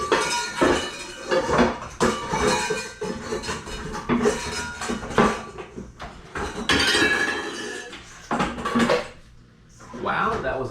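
Loud metallic clattering and clanking of a metal mixing bowl and utensils being handled in a home kitchen while making cheddar beer bread, with repeated bangs and scrapes over several seconds.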